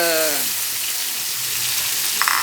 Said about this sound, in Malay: kita tumis lagi sehingga garing